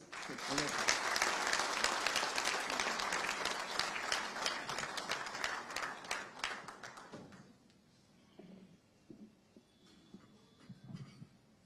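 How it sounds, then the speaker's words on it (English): Audience applause welcoming the Chief Minister at a FICCI national executive committee meeting in Ahmedabad, a dense sustained clapping that fades after about seven seconds into scattered claps and quiet room noise. "A round of applause."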